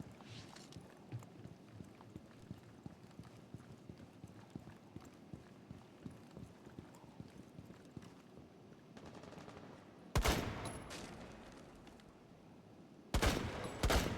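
Gunfire in a tactical shooter video game: soft rapid shots and footsteps patter for several seconds, then two loud bursts of automatic fire crack out near the end.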